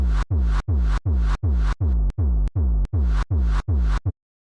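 A repeating kick pattern drenched in a reverb layer taken from the punch, its level automated to swell and dip across about ten hits before cutting off abruptly.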